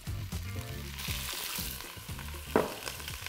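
Onion, garlic and other vegetables frying in extra virgin olive oil for broccoli soup, a close, steady sizzle with a brief stir or clatter partway through; no talking.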